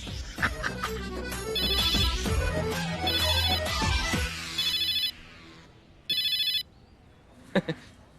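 A phone ringtone plays a melodic electronic tune, loud and close, then cuts off, followed by a couple of short beeping rings and a brief clatter.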